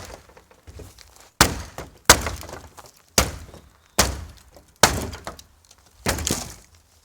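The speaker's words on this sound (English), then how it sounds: "Can give it a tappy tap tap. Just break those nails loose here." Wooden back panel of reclaimed wood being struck to knock nails loose, six sharp, loud thunks at roughly one-second intervals, each ringing briefly with a cracking, rattling edge, close and without talk.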